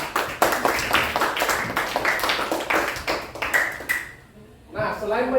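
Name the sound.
classroom students clapping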